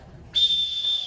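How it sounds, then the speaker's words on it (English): A single sharp whistle blast starts abruptly after a moment of quiet and holds a steady piercing tone to the end, loud and close with no talk. "What kind of who blows the whistle like that?"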